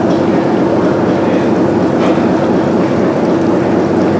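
A 1920s generator set with a water-cooled exhaust runs at a steady, loud, unbroken drone, a dense rumbling roar that stays constant throughout with no voices.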